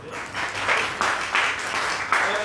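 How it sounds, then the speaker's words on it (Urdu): Audience at an entrepreneurship talk breaks into steady, close applause for a newlywed, a continuous patter of many hands swelling in small waves for a couple of seconds. "تالیوں سے ان کو ذرا مبارکباد دو"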